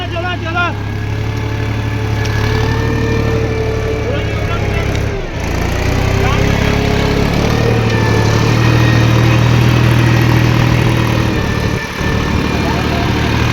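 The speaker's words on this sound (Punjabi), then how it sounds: "ਟਰੈਕਟਰ ਦੇਖੋ ਟਰੈਕਟਰ" A tractor engine runs steadily and loudly close by, with a low droning hum throughout while people talk over it.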